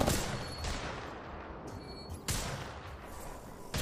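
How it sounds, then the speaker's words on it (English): Gunfire in Apex Legends aimed at the player: loud, harsh bursts of shots coming in several separated volleys, with a dense crackle between them and no talking. "Shots fired at me."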